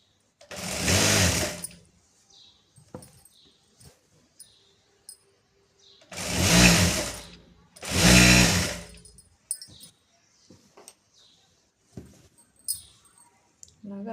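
Sewing machine stitching straight-cut pant leg seams, three loud bursts of rapid whirring run separated by quiet pauses filled with small clicks and handling noises.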